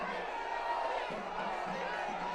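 A large crowd at a political roadshow in Kochi, Kerala roars and cheers in a continuous wash of distant voices, with faint shouts rising over the steady crowd noise.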